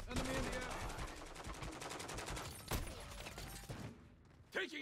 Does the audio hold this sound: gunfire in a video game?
yes